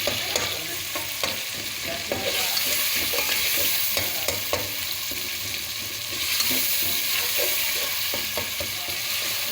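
Tomatoes frying in oil for potato rice (aloo tahari), a steady close sizzle broken by repeated scraping clicks of a spoon stirring against the pan, with no talk.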